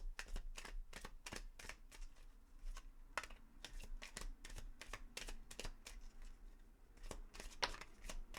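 Romance Angel oracle cards being shuffled by hand, a steady run of quick, crisp riffling clicks and slaps repeating close up with no talking.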